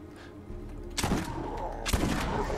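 Video game grenades going off, two sharp explosive blasts about a second apart, each with a brief rumbling tail, over a low background hum.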